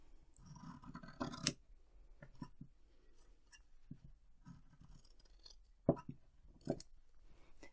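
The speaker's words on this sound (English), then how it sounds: "all I'm going to do is just cut off the corners and make it round" Small scissors snip through embroidered fabric to round off its corners, a few crisp close cuts with quiet pauses and faint handling scratches between them.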